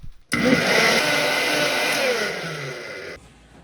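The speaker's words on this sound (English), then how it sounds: "I ended up needing a second blender container here" Countertop blender pureeing a large onion for dove birria sauce, a loud steady whirring motor that starts abruptly, runs for about three seconds with a slight drop in pitch, then cuts off sharply; no talking.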